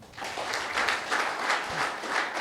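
A seated audience at a motivational talk for government welfare secretaries in Etcherla, Srikakulam, claps steadily for a few seconds. The dense, even applause sounds fairly close.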